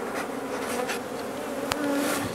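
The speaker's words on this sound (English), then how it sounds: "I've already shook a few bees down here" Honey bees shaken down into a starter box buzz in a steady, dense drone close by, with individual bees flitting past, and no voices over the hum.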